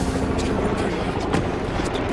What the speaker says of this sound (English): Chopper's coming back around!